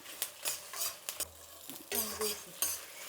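Kashmiri chillies and curry leaves frying and being stirred in a pan for a Karnataka Iyengar-style vangi bath spice mix, with repeated scraping stir strokes over a steady sizzle, close and fairly quiet.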